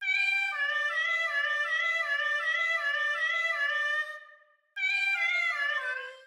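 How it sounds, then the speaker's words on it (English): Two layered cat-meow voices sing a continuous melody in close harmony, sustained stepwise pitch lines with a brief drop near the end before the tune resumes, loud and alone with no talk. "I wanted to layer the cat singing voice with another cat singing voice"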